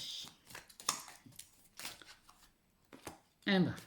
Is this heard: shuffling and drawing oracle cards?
yes